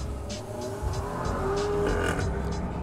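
BMW 520 car accelerating hard from a standing start with the pedal floored, engine note climbing through the revs at moderate distance, with a faint tire squeal.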